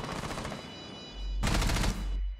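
Rapid automatic gunfire in Rainbow Six Siege, a dense burst of loud shots rattling off in quick succession, then a second, heavier volley near the end over a low rumble.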